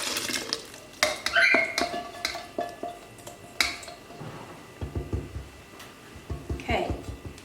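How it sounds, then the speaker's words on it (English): Ciabatta poolish is poured and scraped into a mixing bowl, giving wet slaps, clinks and utensil knocks in irregular bursts, with a person talking over it. "we'll pour that into our mixing bowl"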